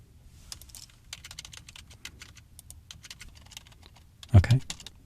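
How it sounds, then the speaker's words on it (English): Computer keyboard keys tapped in quick irregular bursts, including shift and numeric arrow keys, close and fairly quiet, ending with a louder clunk. "I'm using the shift and the numeric arrow keys for these big, crude movements"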